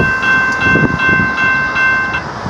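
A train rolls past a malfunctioning railroad crossing, with a steady rumble, sustained tonal hum and faint rhythmic clatter of wagons throughout, fairly loud and close, no talking.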